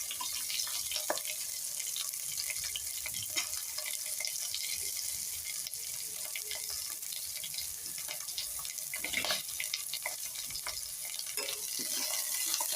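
Green chillies, curry leaves and onion hit hot tempering oil in a pan for a bitter gourd sabzi, giving a steady, fairly quiet hiss of sizzling with faint stirring clicks throughout.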